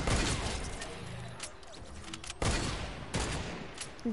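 Sniper gunfire in a PS4 shooter video game: several sharp, loud cracks spaced a second or so apart, each followed by a decaying echo, over a busy background of game noise.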